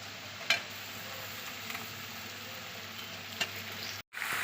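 Chicken pieces frying with onions already browned red in a pan for a country rooster curry, a steady low sizzle with a couple of soft stirring clicks.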